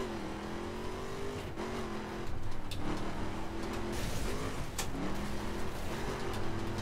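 A car in the racing video game The Crew accelerates, its engine revving and shifting through gears in a steady loud drone with pitch rises and dips, while no one speaks.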